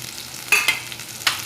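Drumstick vegetable (shevga) sautéed in a pan with red chili powder, turmeric, salt and cumin powder: a soft sizzle with three quick stirring scrapes, close and brief, no voices.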